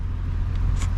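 A 2024 Ford Mustang GT convertible's V8 engine and exhaust give a steady, deep rumbling drone from close by, with no talking.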